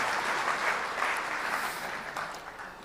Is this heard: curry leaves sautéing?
no